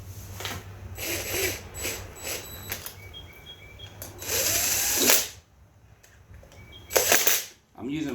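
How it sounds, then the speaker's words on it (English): Whirring bursts of a large cordless drill starting and stopping while working on an electric scooter, some short and some longer, loud and close, with clicks and ratcheting between runs. "I'm using my bigger drill today,"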